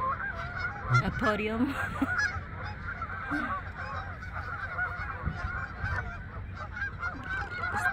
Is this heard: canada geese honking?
yes